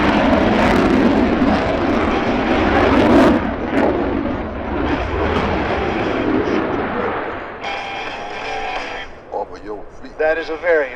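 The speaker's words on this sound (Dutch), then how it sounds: "That is a very impressive jet." Jet aircraft roaring past at the Sanicole sunset airshow in Belgium, a loud sustained engine rush that fades toward the end under a commentator's voice.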